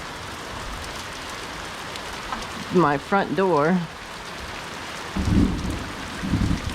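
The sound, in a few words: summer thunderstorm rain with thunder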